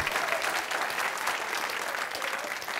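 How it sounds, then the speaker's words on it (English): Steady, dense applause from the studio audience at a high school quiz show, many hands clapping evenly at a constant loud level from start to finish, with no voices over it. "A nice round of applause."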